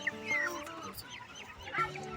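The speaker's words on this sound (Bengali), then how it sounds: "এটা রাজহাঁসের বাচ্চা।" Goslings and chickens cluck and honk at a weekly outdoor market in Portugal, with a couple of short calls close by over a low murmur of the crowd.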